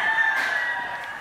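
A rooster, a gamecock from a fighting-rooster breeding yard, crows once, a loud close cock-a-doodle-doo alone with no talk.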